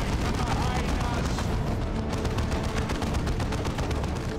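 Dense, continuous battle noise from Warhammer 40K: Dawn of War 2 Chaos Rising as a grenade launcher fires at buildings, with booms and gunfire blending into a loud, steady wash with no clear gaps.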